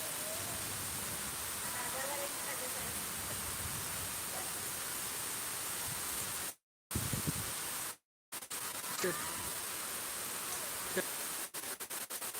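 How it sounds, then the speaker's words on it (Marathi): Heavy rain pours down in a steady, loud hiss, briefly cutting out twice before resuming; a few sharp clicks near the end. "पावण्याचा एकदम जोरात फुल पाऊस पडला"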